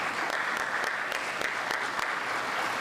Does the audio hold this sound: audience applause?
yes